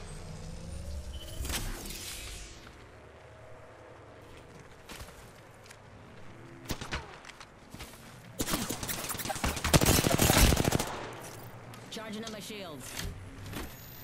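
Gunfire in Apex Legends: scattered sharp shots, then heavy bursts of rapid fire around the middle, with quieter clicks and mechanical effects between them, all under a player's talk.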